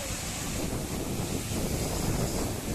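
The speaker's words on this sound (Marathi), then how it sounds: "वारा सुटलाय." Strong wind roars steadily against the microphone outdoors, a dense, unbroken rushing with no pauses and no voices.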